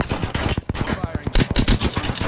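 Loud, close automatic fire in the battle royale shooter Apex Legends: rapid, sharp bursts with brief gaps, followed by a denser volley near the end, with a voice faintly present underneath.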